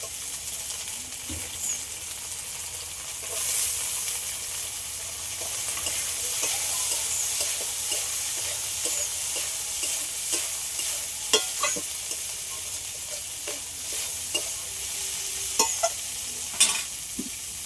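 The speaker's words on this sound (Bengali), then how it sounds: "এবার উচ্ছেটা দিয়ে দেন লবণ হলুদ মাখানো" Bitter gourd coated with salt and turmeric sizzles steadily in hot oil while a spatula scrapes and stirs the pan, with sharp metallic clinks scattered through the final seconds.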